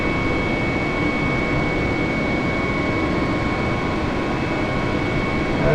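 A helicopter flies in Microsoft Flight Simulator 2025, giving a steady, loud, unbroken engine and rotor drone throughout with no talking.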